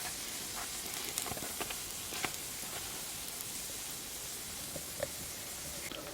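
Fluffy Russian pancakes (oladyi) frying in a pan in a village kitchen, a steady quiet sizzle with occasional small pops and crackles, no voices.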